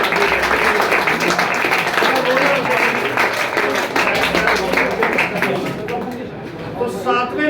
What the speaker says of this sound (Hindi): हम जरूर तालियां बजाएंगे